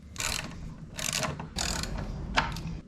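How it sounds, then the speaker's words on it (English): An 8mm socket ratchet undoes the skid plate bolts on a 2022 Kawasaki KLR650, making close, quiet clicking in four short bursts with pauses between. "All you need is an 8mm socket, and that's how you get them off."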